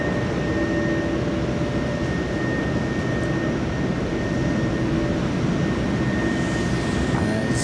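A British Airways airliner coming in to land at Manchester Airport makes a steady broadband engine rumble with faint sustained tonal whines, moderately loud and unchanging throughout, with no voices.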